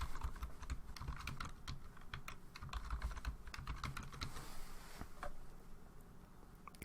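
Someone types a password on a computer keyboard while adding a user in Linux, producing a fast, quiet run of key clicks that pauses briefly near the end, with no voices.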